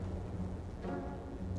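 A lightning orb's thunder effect in Slay the Spire: a dense, rumbling crackle that holds steady and loud for about a second and a half, with a brighter surge midway.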